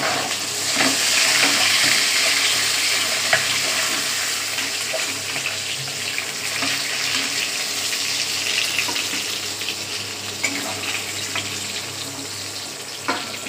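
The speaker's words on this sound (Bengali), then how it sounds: "মাছগুলো আস্তে আস্তে সব ভাজা হবে" Bhetki fish fry in a pan with a continuous loud, crackling sizzle. It carries occasional sharper pops and spatters and eases slightly over time.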